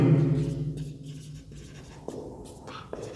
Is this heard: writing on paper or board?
yes